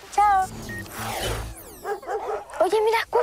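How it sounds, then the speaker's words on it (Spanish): A dog in a rural area where wild rabbits live gives a few sharp barks and yips, some drawn out like whimpers, fairly close and loud, alternating with people talking. "¿verdad que hay perro en el sector?"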